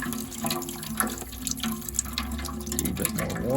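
Water drains from a tankless gas water heater, pouring and splashing steadily into a bucket nearby, a continuous trickling gush with small drips and gurgles.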